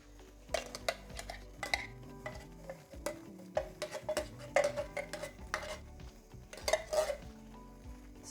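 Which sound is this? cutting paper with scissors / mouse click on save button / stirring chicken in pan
stirring chicken in pan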